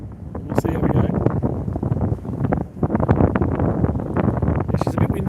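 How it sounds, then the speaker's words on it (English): Strong wind buffets the microphone on the open deck of the Spirit of Tasmania ferry, a loud, steady roar with gusty surges, while a person speaks over it. "Yeah, she's a bit windy."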